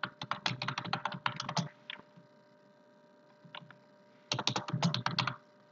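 Computer keyboard typing in two brisk bursts of rapid key clicks, separated by a quiet pause with a few stray taps, close and clear with no talking.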